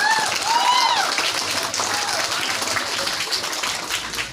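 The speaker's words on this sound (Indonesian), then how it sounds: "Lihat, tepuk tangan dulu." A loud, steady burst of crowd applause at a signing ceremony between a company and a vocational high school, filling the whole stretch, with faint voices and cheering mixed in at the start.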